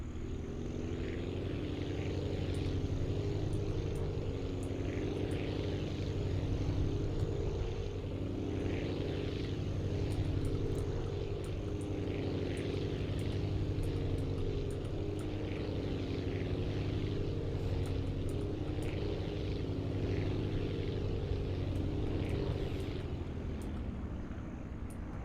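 Small propeller airplane engine in the Aviassembly flight game, a steady droning hum with layered harmonic tones that holds for the whole stretch of a low approach and touchdown, then fades slightly at the end.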